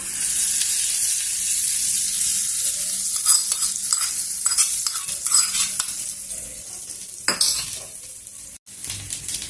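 Tamarind chutney being stirred in a pan after coriander is added, with close scraping and clinking spoon strokes against the pan over a faint hiss, irregular and fairly quiet, ending in a sharp knock.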